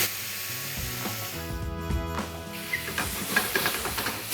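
Loud hissing sizzle as soy sauce and sesame oil hit a hot pan of pork dumplings, with bursts of steam and crackling spatter, a few clacks of a utensil; no speech.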